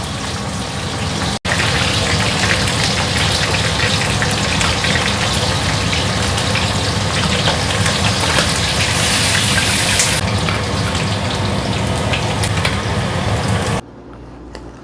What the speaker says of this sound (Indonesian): Nah, ini ayamnya ya tak goreng sekalian.